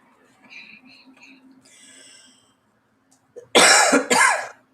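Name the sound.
person coughing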